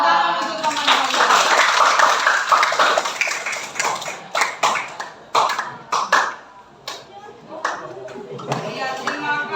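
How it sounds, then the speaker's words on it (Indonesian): Students in a classroom clap for their classmates after a group presentation, a burst of applause that thins into scattered, uneven claps and taps, with some voices mixed in. "tepuk tangan untuk teman kalian"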